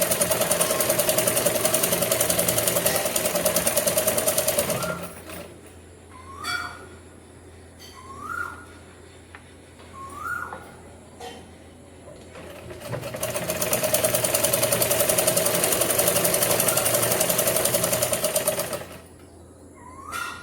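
A sewing machine stitching clothing with a zigzag stitch runs loud and close in two long steady bursts, with short whirring starts and quieter pauses in between.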